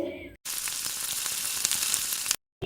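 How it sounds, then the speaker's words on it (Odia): Onions frying with ginger-garlic paste in a pan, a bright dense sizzle with small crackles, starting abruptly after a brief gap and cutting off near the end. "ଏବେ 1 ଚାମଚ ଅଦା ରସୁଣ ପେଷ୍ଟ ପକାଇକି ଟିକେ ଭାଜିବା ଭଲସେ।"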